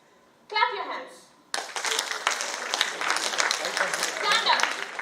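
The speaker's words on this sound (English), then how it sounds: "clap your hands." An audience clapping hands at an International Women's Day event, broad steady applause filling the room for several seconds after a short spoken cue.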